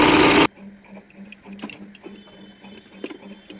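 A sewing machine stitches doubled cotton fabric for a homemade nightie, opening with a brief loud whirring burst, then settling into a quick run of light mechanical tapping over a low motor hum.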